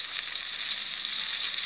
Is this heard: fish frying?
yes